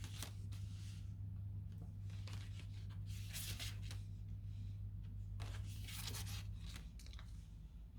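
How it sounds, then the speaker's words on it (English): Tarot cards are shuffled by hand in bursts of soft riffling and rubbing, close and fairly quiet, with a steady low hum underneath. "this is why I am so happy about shuffling on camera"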